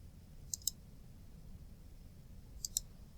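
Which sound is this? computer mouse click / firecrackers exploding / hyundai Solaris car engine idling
computer mouse click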